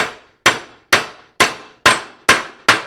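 A hammer taps a front shock mount stud into place on a 1964–66 Thunderbird, seven sharp metallic clangs at an even, unhurried pace, each ringing briefly before the next strike, loud and close.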